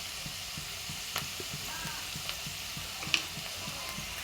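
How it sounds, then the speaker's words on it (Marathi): Onions and cumin frying in hot oil, a steady soft sizzle with faint regular stirring taps and one brief sharp clink, no voices. "तेल गरम करायचं, त्याच्यामध्ये जिरे ॲड करायचं, कांदे टाकायचं, छान त्याला फ्राय करून घ्यायचं."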